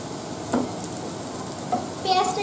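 Ginger-garlic paste fries in a pan for an egg curry, a soft steady sizzle with a few brief clinks and stirring scrapes near the end.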